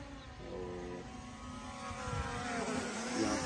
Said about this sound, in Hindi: सुन सुन की आवाज़ भी आपको सुनाई देगी क्योंकि दिखा दे भाई ड्रोन